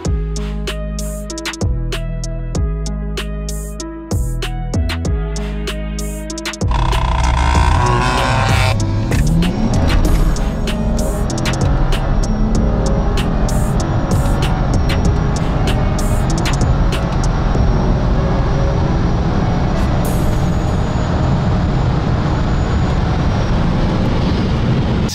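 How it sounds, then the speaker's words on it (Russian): A drag race between a hybrid car of 400-plus horsepower and an all-wheel-drive Audi A3 Stage 2 of 300-plus horsepower. A choppy engine rumble with revving gives way to a sustained loud roar of hard acceleration. "сейчас зарубим вот эту гибридную троечку на 400 сил плюс с Audi A3 на Stage 2"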